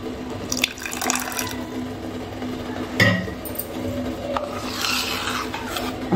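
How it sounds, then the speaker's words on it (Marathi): Water is tipped from a small pot into flour in a kitchen. Short splashing pours and wet scraping come in bursts, fairly close and clear, with a sharp knock around the middle. "थोडंसं पाणी टाकू आपण ह्याच्यात"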